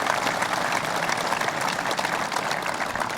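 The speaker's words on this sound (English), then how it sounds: "So give yourselves a round of applause, this whole Manitowoc team" A crowd gathered for the Manitowoc team at a factory event gives steady, full applause, dense and continuous with no voices standing out.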